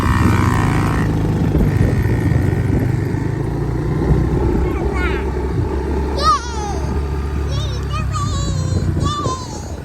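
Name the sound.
dirt bike ridden by four-year-old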